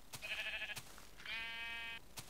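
Two wavering bleats from a Minecraft sheep sound one after the other near a village, fairly faint and separated by a few sharp clicks.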